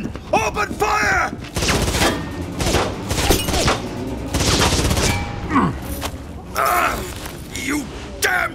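Gunfire bursts as men open fire in a Bioshock crossover audio drama, dense crackling volleys running under overlapping shouted voices and effects throughout.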